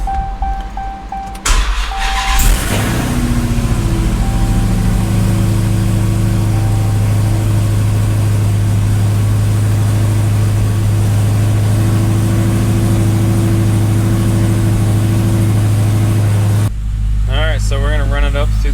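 A Hellcat V8 swapped into a Dodge Dakota cranks and fires, then settles into a loud, steady, deep idle with a sustained rumble before the sound cuts to something else near the end.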